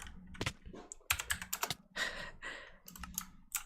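Rapid typewriter-style key clicks in a Minecraft parkour custom map, arriving in uneven bursts of sharp taps with short pauses, close and fairly loud with no voice over them.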